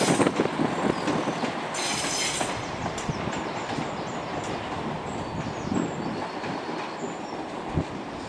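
A train departing Edinburgh Waverley station rumbles past close by, steady roaring wheels on rails with rhythmic clatter and brief high squeals.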